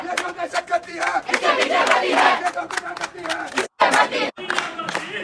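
Students chant slogans in a loud, massed protest at the LUMS university gate in Pakistan, with rhythmic shouting and bursts of clapping running steadily throughout.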